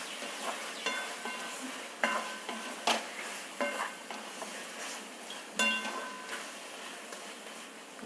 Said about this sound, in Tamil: இப்போ முதல்ல இது வதங்கட்டும்.